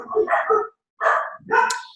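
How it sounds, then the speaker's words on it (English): Several dogs barking at home as a visitor arrives: three loud, close bursts of barking, with a short silent gap after the first two. "I apologize for my dogs. Apparently somebody is here."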